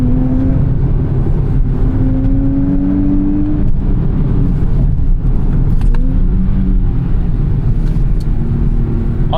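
A turbocharged 2024 Nissan Z engine revs continuously with rising and falling pitch during rev-matched downshifts, loud and close with a steady rumbling drone throughout.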